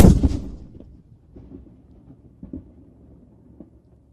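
Single ceremonial gun salute round fired at the King Charles III proclamation ceremony, a sharp loud blast at the start that decays into faint outdoor rumble and scattered crowd noise.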